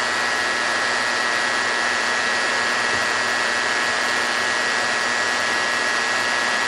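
A T1 electric hair trimmer runs with a constant close, loud buzzing whine that holds steady throughout with no talk.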